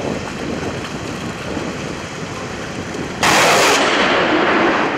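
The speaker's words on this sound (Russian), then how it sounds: "Гром от снарядов оглушает пока немногочисленную толпу зрителей" A naval artillery salvo at a Navy Day parade rehearsal by a shipping canal embankment: steady outdoor wind and rumble, then a sudden loud, sharp blast that hangs on as a heavy roar.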